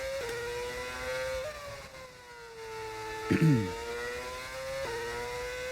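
A Ferrari Formula 1 engine in a racing video game revs high and steady, with pitch shifts at gear changes and a brief rattling burst midway, loud and continuous.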